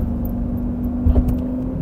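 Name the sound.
Lamborghini Gallardo Superleggera exhaust while driving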